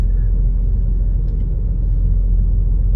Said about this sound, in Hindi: गाड़ी को ज़रा पीछे करेंगे ताकि जो छोटा गेट है वो क्लियर हो जाए।